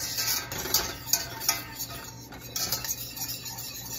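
A whisk scrapes and clinks rhythmically against a pan while a warm bacon vinaigrette dressing is worked together, with repeated light metallic taps and faint sizzling close by and no talking.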